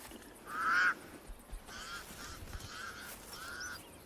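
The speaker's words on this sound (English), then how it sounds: "The pied crows sound the alarm again." Pied crows calling in alarm in the wild, a few harsh croaking calls at moderate distance, one louder burst followed by several fainter repeated calls over a quiet background.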